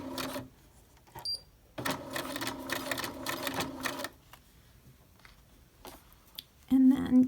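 A sewing machine stitches a princess seam with a half-inch seam allowance, running in quick bursts of rapid mechanical whirring separated by pauses, close and fairly loud.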